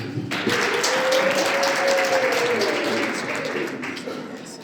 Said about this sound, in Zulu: Cela sishaye ihlombe